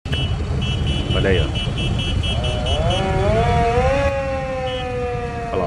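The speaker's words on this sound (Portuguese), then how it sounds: "tratores, né? Em vários locais, ó." Tractors and other vehicles in a farmers' protest during a general strike in Germany, with a constant engine rumble and several loud, sustained horn tones that rise and overlap, and faint voices mixed into the noise.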